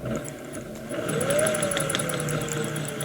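A Singer 403a sewing machine winding a bobbin runs with a steady mechanical whir and faint rapid ticking, rising slightly in pitch midway, close and continuous.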